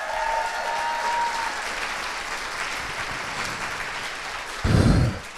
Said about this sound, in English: Applaud South Africa.